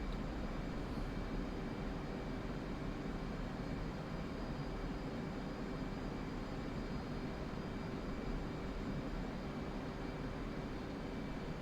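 A steady, faint jet engine hum from an F/A-18C Hornet in the DCS World flight simulator, an even, unbroken roar with no talking.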